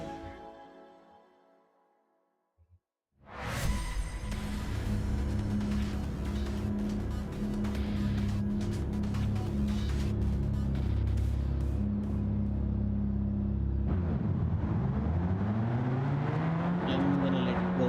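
Race cars roar in a racing video game, engines starting abruptly after a near-silent moment, then a sustained loud drone with shifting pitch sweeps as the cars accelerate and pass.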